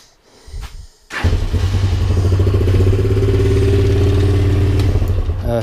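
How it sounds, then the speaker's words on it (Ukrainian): A Lifan CitiR 200 motorcycle in a garage service room cranks briefly and then fires up, settling into a loud, steady close-up idle with clattering engine noise and no talk. "Так, ну що, заводимо наш апарат."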